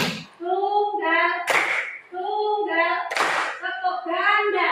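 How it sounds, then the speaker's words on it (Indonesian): In a classroom clapping routine, a group of children chant aloud between two sharp, bright single claps that ring out clearly over their voices. "Tepuk tunggal"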